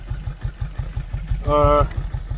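A motorcycle engine warms up at idle with a steady, even low pulsing throb. A voice speaks briefly over it partway through.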